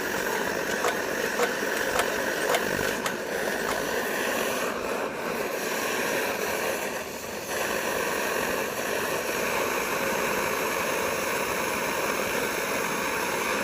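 A pumped Primus Omnifuel camping stove burning steadily with a constant loud roaring hiss, broadband and unbroken for the whole stretch, with small flickers in intensity and no talk.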